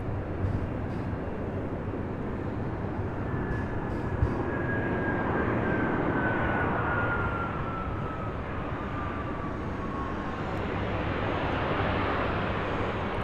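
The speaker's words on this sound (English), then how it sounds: "I want to say I hear a C-130, but I could be wrong" A Lockheed C-130 propeller aircraft at an airport drones in a continuous, moderately loud engine rumble with a slowly falling whine running through it, heard alone without talk.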